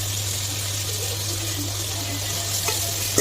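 Onions, chillies and curry leaves sizzle steadily in a pan for a fish curry, a continuous soft frying hiss with a low hum and a faint clink near the end.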